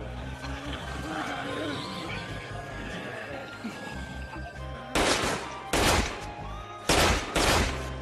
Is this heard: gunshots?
yes